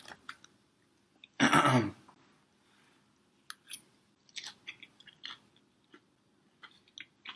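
One loud, close crunching bite into crunchy chilaquiles with egg, followed by quieter intermittent chewing clicks and soft mouth sounds over a faint low hum.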